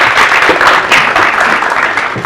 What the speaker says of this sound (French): Bravo, on applaudit